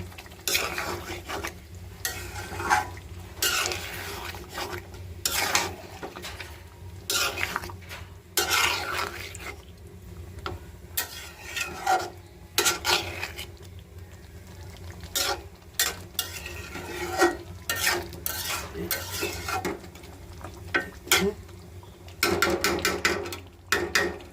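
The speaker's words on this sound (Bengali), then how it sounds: "মাংস দিয়ে দিছি। এখন আমি সুন্দর করে নাড়াচাড়া দিয়ে ঢেকে দিব" Meat being stirred in a metal cooking pot with a utensil, with repeated scraping and clanking strokes in uneven bursts, close and fairly quiet over a soft background hiss.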